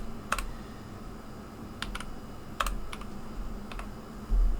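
Someone taps a computer keyboard with a few sharp, sparse key clicks in small clusters, close by and fairly quiet, over a low room hum with no voices.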